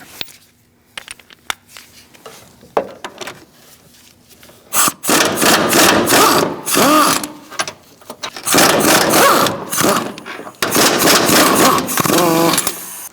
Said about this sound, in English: Now we're going to remove these 3 bolts here using an 18mm socket.